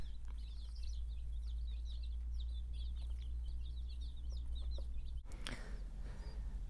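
Baby chicks on a homestead cheep in quick, high, overlapping peeps over a low steady hum, faint and continuous, ending with a brief rustling bump.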